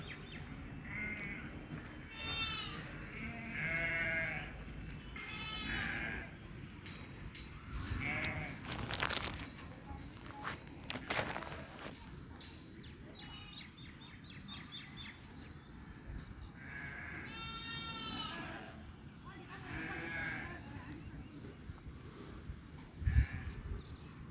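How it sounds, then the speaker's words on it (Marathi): A large flock of sheep bleats repeatedly outdoors at a grazing spot, with overlapping calls at varying distances and a crow cawing now and then. "आज मधून इथं मेंढरं येतात"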